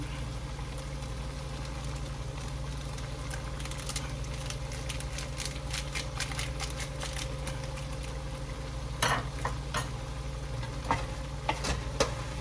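Chicken liver sisig is stirred and scraped with sisig powder in a hot pan, giving scattered clicks and taps over a constant low hum and soft sizzle, with sharper utensil knocks near the end.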